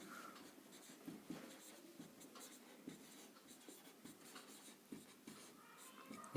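Pen on paper while a math answer is written out, faint quick scratching strokes in short irregular bursts, close and quiet, alone without talk.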